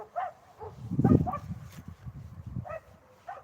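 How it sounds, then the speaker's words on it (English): Three or four dogs bark and yip from a nearby balcony, with short scattered barks and whimpers at mid distance over low background rumble. "There's a house back there with 3 or 4 dogs out on the veranda, out on the balcony, barking at anyone who walks past."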